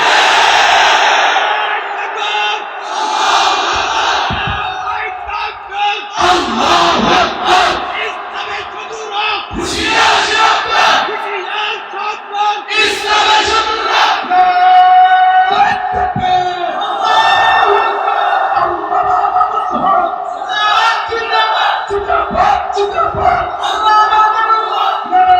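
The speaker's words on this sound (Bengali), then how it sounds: "মুক্তি এবং স্বাধীনতার স্লোগান তুলতে হবে" Large crowd at a religious political rally loudly chanting and roaring slogans for freedom in repeated swelling call-and-response bursts, a lead voice shouting between the massed cries.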